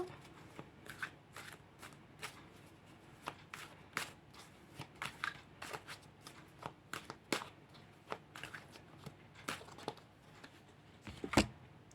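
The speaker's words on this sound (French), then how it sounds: "Donc, je vais battre les cartes." Tarot cards being shuffled by hand, a dense run of soft riffling, slapping and sliding card sounds that is close and steady, with a few sharper snaps and a louder burst near the end.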